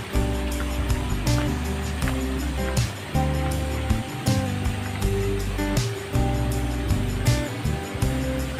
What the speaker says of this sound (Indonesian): kita sudah sampai di air terjun mini